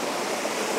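Waterfall at the Birks of Aberfeldy in autumn, a steady broadband rush of falling water filling the whole moment, close and constant with no voices.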